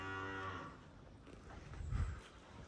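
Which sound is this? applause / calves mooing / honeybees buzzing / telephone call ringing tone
calves mooing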